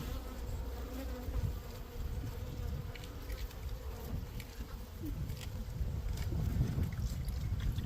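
Honey bees buzz around honeycomb at a hive, a dense, steady close-up drone of many wings with small swells in loudness and no talking.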